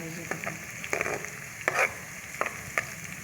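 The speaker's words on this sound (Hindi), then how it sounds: "ये देखिए हमारे प्याज हल्के ब्राउन हो रहे हैं। थोड़ा सा मज़ीद इसको तेज़ कर लेंगे" Onions fry in a pan for chana dal gosht as they turn light brown, giving a close, steady sizzle broken by several sharp scraping stirs of a spoon, with no talking.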